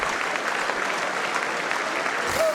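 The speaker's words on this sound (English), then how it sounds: "everybody clapping for so long" Sustained applause in the US Congress for King Charles during his address, a steady, dense wash of many hands clapping in a large chamber, with a brief voice near the end.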